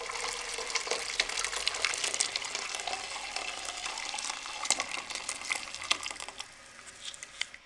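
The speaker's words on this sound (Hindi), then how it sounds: "चाय पानी में हम इसलिए छान लेंगे, जो इसमें ज़रात होंगे वो चाय पानी में आ जाएंगे" Jaggery syrup being strained through a tea strainer into a pot, a soft steady trickle and patter of liquid with faint scraping and clinks of the strainer, low in level and close by, no talking.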